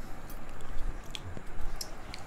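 Phuchka being eaten, its crunchy puri chewed up close in soft, wet squishes and faint crackles over a couple of seconds, with no talking.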